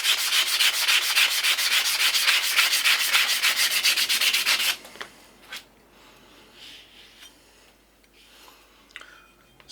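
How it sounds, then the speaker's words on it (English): Rhythmic, rapid rubbing strokes scrub surface rust from an old hand tool for about five seconds, close and steady, then stop, leaving faint handling clicks and scrapes. "just getting the surface rust off really"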